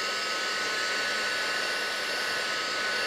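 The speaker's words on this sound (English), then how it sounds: "Give it a quick dry with heat tool." A heat tool blows steadily to dry ink on a sunset greeting card, a loud, even whoosh of hot air that runs unbroken and close throughout.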